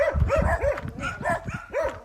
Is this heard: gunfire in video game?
no